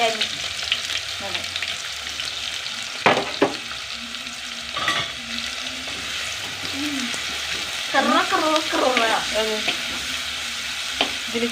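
Onion slices and small pieces of ginger and garlic fry in hot oil in a pan, a steady dense sizzle with sharp clatters of stirring at intervals, close and fairly loud with no speech.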